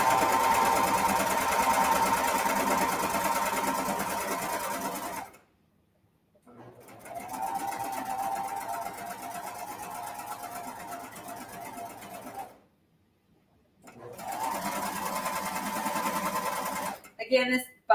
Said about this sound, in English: So I'm going to sew all the way.